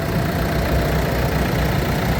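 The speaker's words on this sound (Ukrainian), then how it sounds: "Двигун чисто працює, ніяких нарікань немає," A steady, rumbling engine of a 2020 Renault Master van idles close by, constant and unbroken throughout, with no voices.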